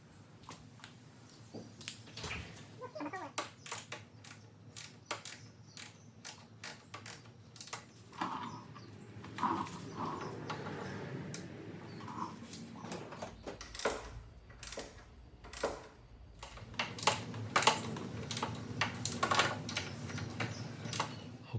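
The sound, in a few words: torque wrench tightening ATV stabilizer bolts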